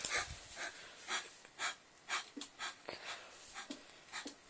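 A person panting heavily while playing a video game, quick rhythmic gasping breaths close to the microphone, fairly quiet, with no talk.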